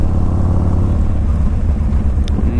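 A Yamaha Raider muscle-bike engine idles and rumbles with a steady, deep, pulsing low throb, close and loud throughout, with no talk over it.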